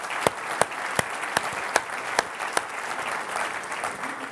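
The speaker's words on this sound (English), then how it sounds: "big round of applause for Ermina," An audience at a Zeitgeist conference gives a steady wash of applause, with a few louder individual claps standing out up close, continuing evenly throughout.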